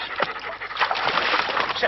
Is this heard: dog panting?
yes